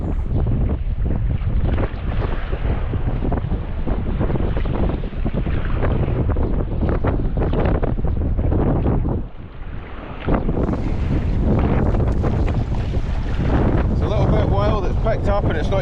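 Strong wind buffeting the microphone while sea kayaking near the Isle of Shuna and Port Appin, a constant loud roar mixed with water and waves, with a brief lull partway through.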